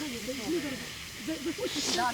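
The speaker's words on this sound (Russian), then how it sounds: "Водичка закипела" Steady hiss of boiling water in a pot for coffee with a brief louder steam rush near the end, while a voice talks over it.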